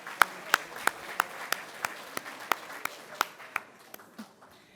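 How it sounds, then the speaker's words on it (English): A seated audience at an affordable housing summit gives the caterers a round of applause after lunch: sparse, evenly spaced claps rise sharply and then thin out as the clapping dies down. "Maybe just a big round of applause for the caterers."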